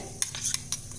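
A spoon stirs baking powder mixed with a little water in a small bowl, giving three or four quick, light clinks and scrapes against the side over a faint background hiss.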